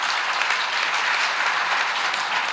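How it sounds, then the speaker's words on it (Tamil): Audience applause at a Tamil Chithirai festival event in New Jersey, a dense, steady roar of many hands clapping throughout, no voices over it. "ஒரு நல்ல கைத்தட்டு கொடுத்து நமக்கு"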